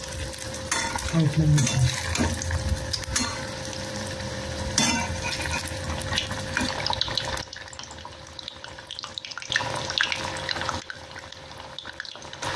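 Soybean patties fry in hot oil with a continuous bubbling sizzle, mixed with scraping and clattering from handling the pan. The sound is close and moderately loud, easing slightly partway through.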